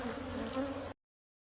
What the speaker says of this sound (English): So I've had a lot of fun with these bees